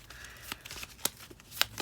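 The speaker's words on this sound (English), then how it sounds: "So let's go ahead and do one last shuffle" A deck of playing cards is shuffled nearby, with soft riffling texture and a few sharp crisp snaps, quiet overall and without talk.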